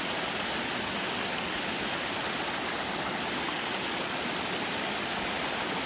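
A full waterfall pours without pause, a dense, even roar of rushing water that stays loud and close throughout, with no voices.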